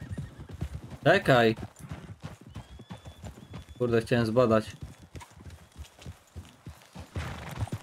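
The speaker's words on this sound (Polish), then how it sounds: "Co to jest? Konie dzikie, tak?" Wild horses in Red Dead Redemption 2 clop by with hooves on the ground and loud whinnies, while someone speaks over them.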